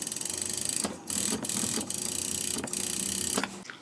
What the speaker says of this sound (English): I'm gonna serge the edges of the bolster ends